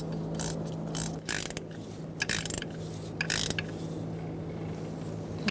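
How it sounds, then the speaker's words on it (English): A ratchet wrench with a 14 millimeter socket tightens the idler pulley bolt on a Hyundai Accent 1.6L engine, giving close, crisp clicking in several short bursts with brief gaps between them. "get your ratchet wrench in there, 14 millimeter, and tighten it up"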